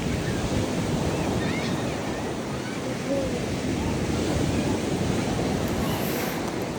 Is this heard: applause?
no